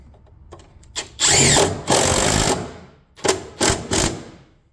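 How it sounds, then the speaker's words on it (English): A power drill whines in several bursts while drilling a condensate drain hole in a mini split rough-in box, a long run followed by shorter pulses and trigger stops, close and loud with quiet gaps between. "Then I'll drill a hole for the bottom condensate drain as well."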